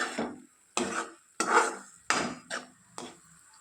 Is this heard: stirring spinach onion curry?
yes